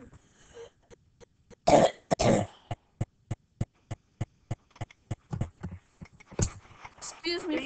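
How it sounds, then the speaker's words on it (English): A person coughs in a long run of sharp, rhythmic bursts, close by, with brief talking at the start and end. "Excuse me for the coughing."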